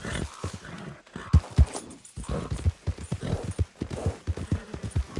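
Horse hooves clip-clopping steadily as the animal is ridden, a close, rhythmic stream of hoof strikes with a brief snort or whinny in the mix.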